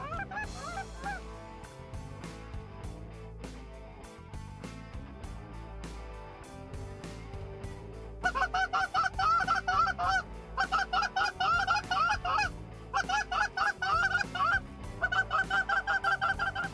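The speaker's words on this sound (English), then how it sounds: "it's all traffic geese flying over top" A flock of snow geese honks loudly and continuously overhead, many overlapping calls in bursts, with quieter honking before the flock draws near.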